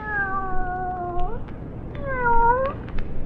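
A cat meows twice in a radio drama, two drawn-out, wavering cries close to the listener with a brief gap between them and no talk over them.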